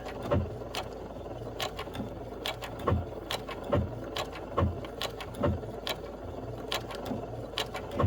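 A sewing machine with a regular J foot running slowly as it stitches a quilt block, a steady close mechanical whir with evenly spaced thumping needle strokes throughout, no voices.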